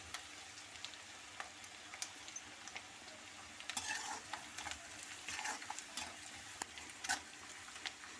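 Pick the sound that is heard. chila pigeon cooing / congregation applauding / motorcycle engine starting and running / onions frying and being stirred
onions frying and being stirred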